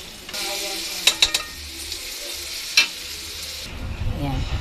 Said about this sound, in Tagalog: Prito muna natin yung kanyang hotdog.